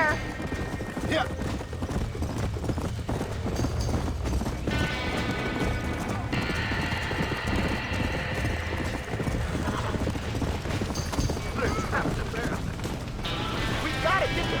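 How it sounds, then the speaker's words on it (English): Horses gallop and neigh in a Western video game as a barn burns, with rapid continuous hoofbeats, occasional whinnies and crashes, and voices talking over the action. "We gotta get to the horses!"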